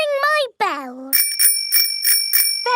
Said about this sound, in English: Ringing your bell lets others know you are there.